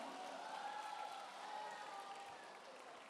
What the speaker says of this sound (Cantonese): 大家可以俾啲掌聲佢哋